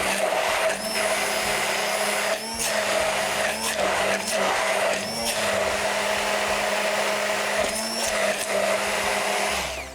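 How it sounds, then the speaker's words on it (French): A blender purees a green sauce for grilled sardines, making it thinner. Its motor whirs loud and steady for the whole stretch, with brief dips in pitch as the load shifts. No one speaks over it. "je vais juste mixer encore plus parce que je veux que ça soit un petit peu plus liquide"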